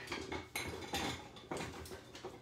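A kitchen bowl is picked up and set down on a counter while preparing herbed cheddar scones, giving several sharp, close clinks and clatters spaced about half a second apart.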